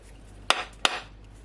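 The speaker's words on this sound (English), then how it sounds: "I have one of these food hammer, and I'm just gonna gently," Two sharp, hard knocks a fraction of a second apart as a food hammer strikes a coconut in a home kitchen, close and crisp against a quiet background.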